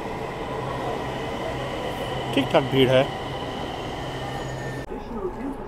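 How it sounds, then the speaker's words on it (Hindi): Interior of a moving Noida metro train, a steady low rumble and hum of the carriage with air conditioning, plus a brief squeal of wheels. Someone speaks briefly over the noise. "ये है नोएडा सेक्टर 51 तक जाने वाली मेट्रो"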